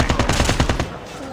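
Rapid bursts of automatic gunfire from the game Call of Duty Mobile rattle loudly for under a second, then cut off, leaving a faint hiss.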